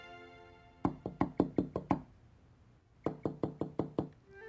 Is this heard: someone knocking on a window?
yes